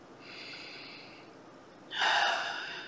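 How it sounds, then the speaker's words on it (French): Deep, conscious breathing during a meditative full moon and eclipse celebration: a soft, airy inhale, a brief pause, then a louder, fuller breath, close and alone with no talk. "Et je prends une respiration"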